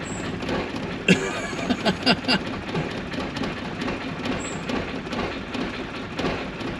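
A Land Rover Discovery with a fuel problem cranks over with the throttle held down, a continuous rough mechanical churning with a few louder knocks early on, fairly close and steady throughout.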